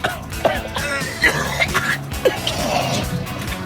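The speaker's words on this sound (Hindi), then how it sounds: "अब खांसते रहो थोड़ी देर के लिए" Someone coughs and clears their throat in several harsh, uneven bursts over a few seconds, close and fairly loud.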